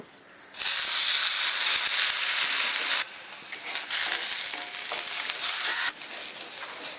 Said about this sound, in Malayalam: ഇതിപ്പോൾ ഇങ്ങനെ അരി ഇങ്ങനെ പൊട്ടി തുടങ്ങിയിട്ടുണ്ട്.